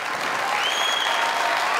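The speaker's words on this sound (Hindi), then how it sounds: "अली साहब के लिए जोरदार तालियां दो" A comedy show audience applauds steadily, dense clapping holding at a constant, loud level from start to finish.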